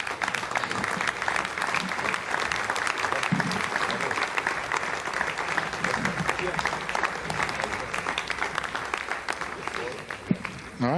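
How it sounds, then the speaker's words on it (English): Sustained, dense applause from a mission control room at an Ariane 5 launch, following separation of the Eutelsat satellite, clapping steadily and loudly throughout with little variation. "you heard the applause"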